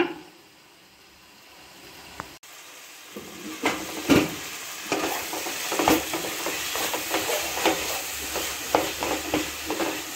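Onion and tomato with mint and coriander sautéing in a pan for pepper chicken gravy, heard as a soft sizzle under repeated light scrapes and clinks of stirring that grow busier after a quiet opening.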